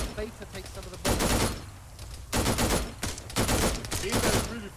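Rapid automatic gunfire in the military game ArmA 3, loud bursts in three long volleys with short gaps and faint voices between.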